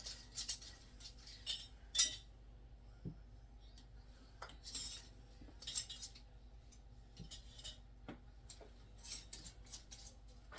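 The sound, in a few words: glass relish jars and lids being handled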